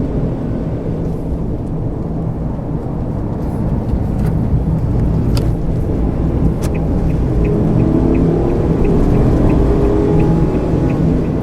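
A Suzuki Every kei van with a naturally aspirated engine accelerating onto the expressway, a steady loud engine and road rumble from inside the cabin that builds slightly, with a few faint clicks partway through.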